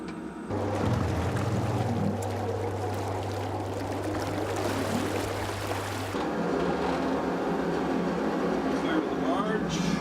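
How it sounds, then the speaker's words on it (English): A submarine diving underwater hums steadily with a constant low engine drone under rushing, bubbling water noise that shifts midway, with voices talking over it. "Engines on."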